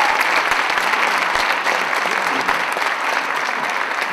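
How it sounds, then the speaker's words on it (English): Audience applause at a film Q&A screening, a dense, steady clapping from a full room sustained loudly throughout with no pauses. "so one more round of applause"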